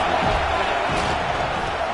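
A college football stadium crowd roars loudly and continuously, a dense wash of voices with a few sharp bumps.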